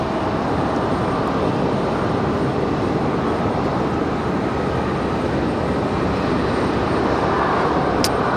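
Aer Lingus airliner departing Raleigh-Durham airport, a steady loud broadband jet roar that holds evenly throughout without any voices.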